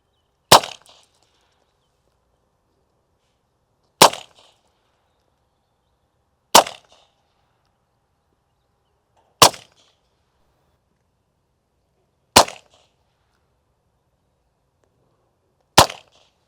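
Six sharp, loud shots from a RAM self-defense gun strike a small melon, spaced a few seconds apart, each a crisp crack with a short decay and silence in between.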